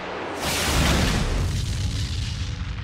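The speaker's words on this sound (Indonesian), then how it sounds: "saat mereka menyalakan roket terjadi sebuah ledakan yang membuat Mars 2 meledak" A rocket ignition explodes in the science-fiction film Mission to Mars, a sudden deep boom that swells into a loud, rumbling roar and slowly decays over a few seconds.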